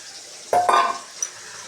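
Paneer frying in a kadai gives a short burst of sizzling and stirring with a metal utensil scraping the pan, close up, followed by a single small clink and then quiet, with no voices.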